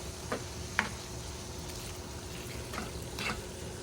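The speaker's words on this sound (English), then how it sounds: "this is going to cook up a little bit like this, just simmer" Cauliflower pasta sauce with pepper and red pepper flakes simmers quietly in a pan, giving a soft, steady bubbling hiss with a couple of faint clicks of the spoon, and no one talks.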